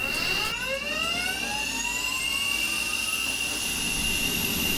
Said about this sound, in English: Start the APU.